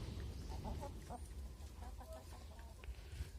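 Hens clucking in a village coop where a small free-range laying flock is kept, several birds calling in short overlapping bursts over steady low rumbling background noise.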